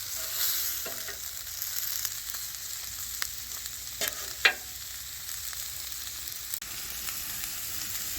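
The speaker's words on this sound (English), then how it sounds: "We'll get the shrimp and chorizo started." Shrimp and chorizo on a flat-top griddle alongside browning fajita vegetables give a soft, steady sizzle with occasional scraping taps and clicks from a spatula, fairly quiet and with no one talking.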